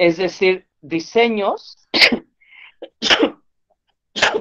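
A single sharp human sneeze cuts through a Spanish e-commerce lecture, loud and close, followed by a second brief burst, with the presenter's speech on either side and silent gaps between.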